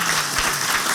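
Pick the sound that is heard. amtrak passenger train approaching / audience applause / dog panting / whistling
audience applause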